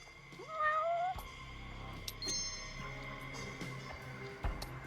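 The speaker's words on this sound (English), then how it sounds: "Look at this, a cat." A cat in the video game Judgment gives a clear rising meow near the start, followed by quieter ambient game sounds with faint chirps and clicks.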